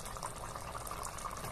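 Broth bubbles steadily as it reduces in a pan, a dense, continuous simmering fizz heard close up with no voices over it.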